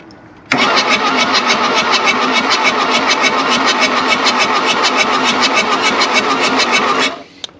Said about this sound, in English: let's go ahead, turn this thing over a few times to see how it sounds.